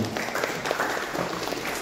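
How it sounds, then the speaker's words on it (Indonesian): A crowd applauds steadily, many hands clapping in a dense, continuous patter that holds at an even level throughout. "Jadi tepuk tangan dulu dong buat Anda semuanya."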